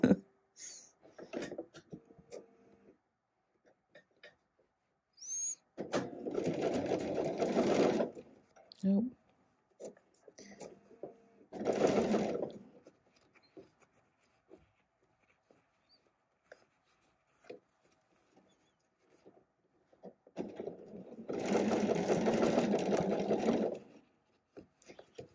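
Sewing machine closing the waistband seam on a ready-to-wear garment, running in three separate bursts of stitching with quiet handling and pauses between them.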